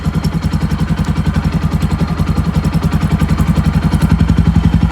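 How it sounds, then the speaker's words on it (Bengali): A motorcycle exhaust with its homemade dB killer removed runs loud and close, a steady rapid throbbing pulse of engine firing without noticeable revving or talk. "এখন যদি আমি ডিবি কিলার খুলি সেক্ষেত্রে অনেক বেশি নয়েজ আসবে"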